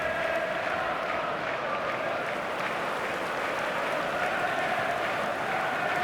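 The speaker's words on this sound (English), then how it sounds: "a capacity crowd here" Capacity stadium crowd in eFootball 2026 for Manchester City vs Newcastle, a steady, dense roar of cheering and applause that holds level throughout, with no distinct voices standing out.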